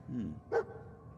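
Dogmeat the dog in Fallout 4 gives a single short, faint bark, preceded by a soft whine.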